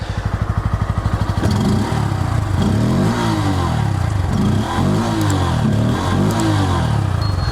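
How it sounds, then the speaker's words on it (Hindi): A Bajaj Pulsar N160 with an underbelly exhaust, idling at first as a rapid, even thrum, then blipped through several quick revs that rise and fall, close and loud, with no talking. "अब सुनते हैं एग्जॉस्ट नोट।"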